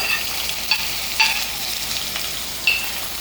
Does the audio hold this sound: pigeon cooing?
no